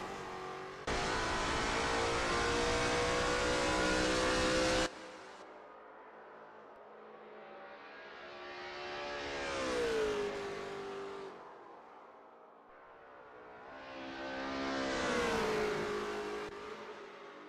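Lola T70 MkII Spyder race car in a racing game at Spa, its engine roaring at full throttle, then swelling and fading in two long rising-and-falling revving sweeps, loud and alone.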